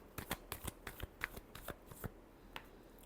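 Tarot cards shuffled by hand in a final shuffle before a reading, giving quick soft riffling slaps in an irregular run of about a dozen strokes, close and fairly quiet, with no talking over them.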